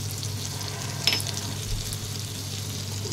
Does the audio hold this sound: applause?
no